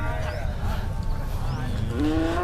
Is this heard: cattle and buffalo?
yes